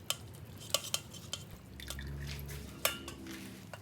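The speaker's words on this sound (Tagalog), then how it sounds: "Haluin lang po natin ng konti." Pork and chicken sinigang is stirred in a pot, making soft liquid sloshes and a few light clinks of utensil against metal, with a low hum underneath.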